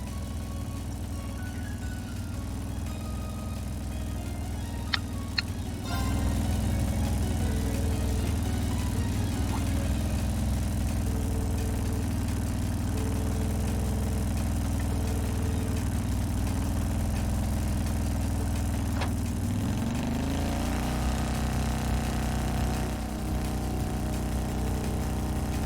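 An orbal bike from The Legend of Heroes: Trails of Cold Steel idles with a steady low engine drone, then revs and shifts gears near the end, its pitch rising and falling as the clutch works.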